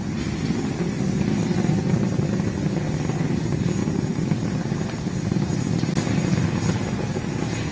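SpaceX Falcon 9 rocket lifting off with all nine Merlin engines firing, a loud, steady broadband roar with heavy low-end rumble and crackle that holds unbroken throughout, with no voices.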